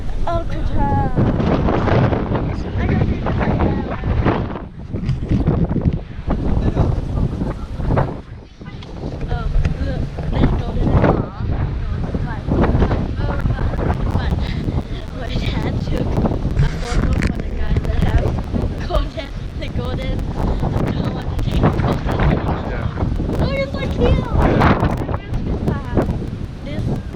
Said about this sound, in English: oh, but it's quite windy